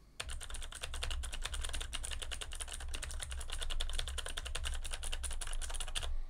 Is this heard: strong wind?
no